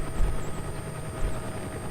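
A helicopter flying in the video game Battlefield Bad Company 2 makes a steady, droning rotor and engine roar with a faint high whine, holding close and constant throughout with no talking.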